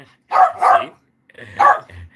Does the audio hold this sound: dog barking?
yes